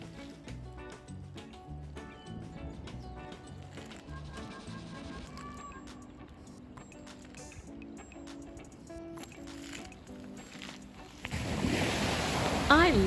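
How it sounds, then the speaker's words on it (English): Ocean surf breaking on a beach at Kodiak, Alaska, swells up loud and close over the final couple of seconds, after a long stretch dominated by music with a faint watery wash beneath it. "I love exploring the beach and listening to the waves."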